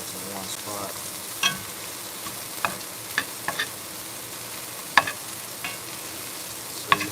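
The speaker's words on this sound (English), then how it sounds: "So you see those onions now are getting to be pretty crispy." Onions frying in burger fat for hamburger steak, a steady soft sizzle with scattered sharp clicks and scrapes of a utensil stirring the pan, close and moderately quiet.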